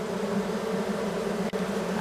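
Steady, dense buzzing of many honey bees inside a hive dusted with powdered sugar, continuous and close, with no voices.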